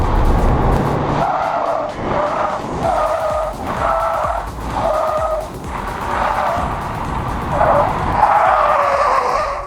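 A Honda Civic driven hard with traction control on, tires squealing repeatedly through a series of corners over a steady engine drone, loud and close throughout.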